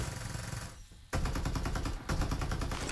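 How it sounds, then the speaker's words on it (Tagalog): Gunfire in the video game Farlight84: rapid automatic bursts, loud and close, pausing briefly before a dense stream of shots resumes and continues steadily to the end. "lahat ng putok tama eh"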